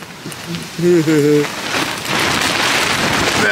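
Heavy rain lashes a tent during a thunderstorm at an overnight bivouac camp, a loud dense wash of drumming drops that builds and stays steady, with a brief voiced sound near the start.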